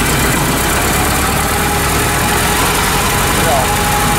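Ford Model T, a 1920s car, drives at about 30 km/h on a German road, its engine humming loudly and continuously with a rough, even vibration throughout.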